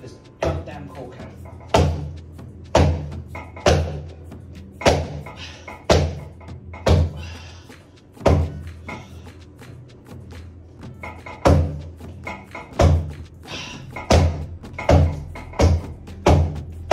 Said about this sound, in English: if you put it in a shoe, hold it perpendicular to the wall, parallel, and bang it, I should be able to get the cork out